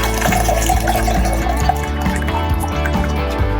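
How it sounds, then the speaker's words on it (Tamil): Dal water and tamarind water are poured into a cooking vessel for rasam. Continuous liquid splashes and trickles close by under soft background music. "நம்ம பருப்பு தண்ணி, புளி தண்ணி இது ரெண்டுத்தையும் இந்த பாத்திரத்தில் ஊற்றிட்டோம்."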